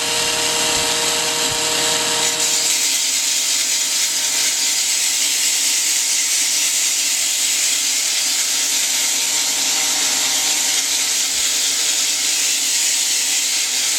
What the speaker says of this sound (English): I'll go back to the sanding blocks again